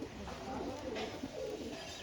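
A pigeon from a fancier's loft in Allahabad coos softly in low, rolling phrases, fairly faint and near, against a light background hum.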